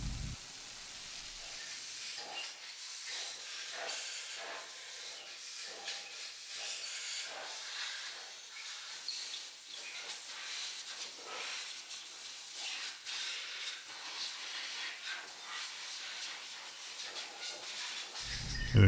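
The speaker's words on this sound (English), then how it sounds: "Just give it a little quick spray off bath and then blow it dry." A steady, hissing rush of a rinse spray and an air blow-dry on an engine part continues for a long stretch, with faint rubbing and fluttering textures.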